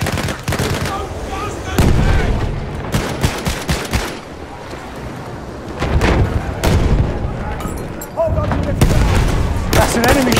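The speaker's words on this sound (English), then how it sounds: "That's an enemy shot." Loud gunfire in Battlefield 1, with bursts of rifle and machine-gun shots and heavy booms crackling irregularly throughout, mixed with muffled battlefield voices.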